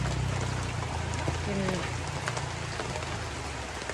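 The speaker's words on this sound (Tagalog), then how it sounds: "Pagkusog sa ulan." Steady heavy rain pours down in a dense, constant hiss, with a voice speaking briefly underneath.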